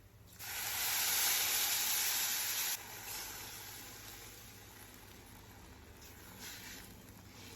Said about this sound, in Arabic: نبدا بقى ننزل عليه بالميه بتاعتنا